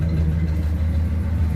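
A 1942 Lincoln Continental coupe engine idles with a steady, smooth low rumble up close, exhaust system still being fitted, with no voices over it.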